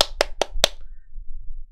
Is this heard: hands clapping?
yes